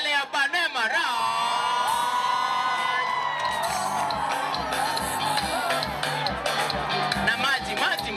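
Crowd at a mobile spares shop event cheering, whooping and yelling loudly and continuously, with voices shouting over a dense, sustained roar of noise.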